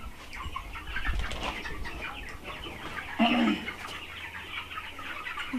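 A chicken clucks in short scratchy bursts at moderate distance, with one sharper squawk near the middle and a soft rustle of farmyard ambience beneath, fairly quiet overall.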